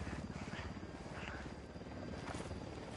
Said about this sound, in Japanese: ヘリか。 ヘリだ。